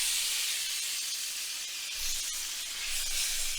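Shrimp sizzling in a hot, smoking pan, a loud steady hiss of frying with occasional crackles and a low thump partway through.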